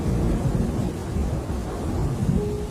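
Heavy storm with rumbling thunder and rain, a dense low roar that stays loud and steady throughout, with no voices.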